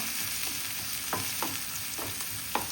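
Onion, tomato and green chilli fry in a pan for a sandwich filling, giving a steady soft sizzle with several sharp scrapes and clicks as the mixture is stirred.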